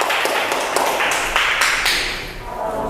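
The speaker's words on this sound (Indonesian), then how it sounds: "Kita beri aplaus untuk kelompok 3." Classroom applause for a student group, a short burst of rhythmic clapping close by that carries through the moment and slowly tapers.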